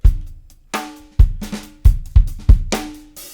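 A dry drum kit pattern with thumping kick hits, sharp snare cracks and ticking hi-hats, played alone in a steady groove.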